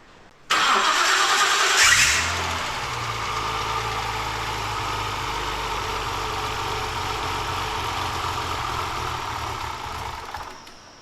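An RB30 engine in a 300ZX cranks and fires up, a brief starter whir followed by a loud, steady rough idle that holds for several seconds before fading slightly at the end.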